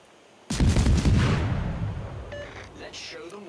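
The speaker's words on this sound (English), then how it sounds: "All stations, concentrate fire on the target." Warship guns in a naval combat video game fire at a target: a loud, heavy boom opens with a dense burst of blasts that rolls and decays over several seconds, with faint beeps near the end.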